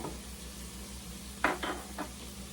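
Flour goes into a pan of hot fat while making chicken tetrazzini with preserved foods, giving a few quick sizzling bursts over a steady low stovetop hum.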